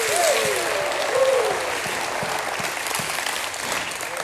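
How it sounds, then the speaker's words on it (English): A church congregation claps and cheers in praise, a burst of loud applause with a few whoops that then tapers off into lighter scattered clapping. "Somebody give God a hand clap and a shout of praise."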